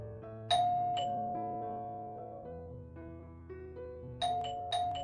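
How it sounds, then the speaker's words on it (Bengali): A doorbell chimes, a ding-dong pair ringing clearly and fading, then ringing again near the end in a quiet house. "Calling bell বাজালো।"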